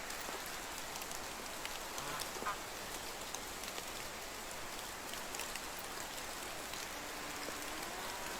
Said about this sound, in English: Some people like rain.